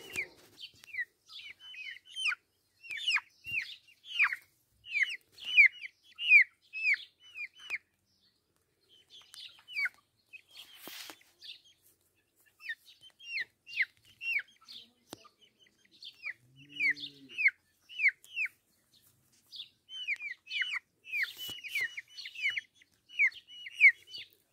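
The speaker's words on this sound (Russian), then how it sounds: "Вот такие красивые, миленькие детки темной брамы." Dark Brahma chicks cheeping in quick clustered runs of high, thin chirps, close but soft, in several bursts separated by quiet gaps, with a brief low cluck in the middle.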